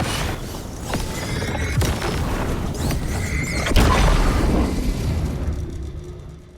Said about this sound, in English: A flashbang.